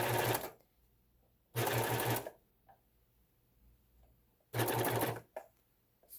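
Sewing machine stitching thick kitchen curtain fabric in three bursts, the first short, the second longer and the third about a second, each separated by quiet pauses. The machine sounds close and fairly loud against a quiet room.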